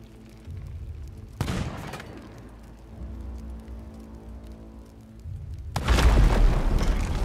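A stronghold gunpowder barrel beside the back mast of a brigantine blows up in the Sea of Thieves game, a sudden loud boom followed by a rumbling, crackling roar, after an earlier sharp burst and low rumble.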